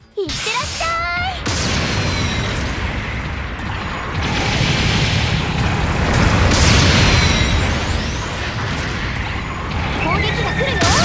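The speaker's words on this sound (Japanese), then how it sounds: "後方部隊から支援砲撃が来るよ。" A support artillery bombardment in Gundam Battle Operation 2 lands as a string of loud explosions and booming impacts over mechanical rumble, with a voice speaking briefly at the start.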